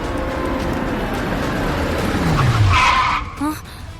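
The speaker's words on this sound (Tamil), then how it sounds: "கார் சத்தம் கேக்குது" A car pulls up with tires skidding during a Tamil television drama scene, a short low screech swelling near the end over a steady, dense background.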